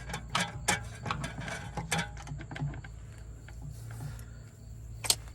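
Metallic ticks, clinks and ratcheting clicks of a wrench removing the last oil pan bolt from a 1997–2004 Ford V10 6.8 motorhome engine, scattered and close over a low steady hum, ending with a sharp clink.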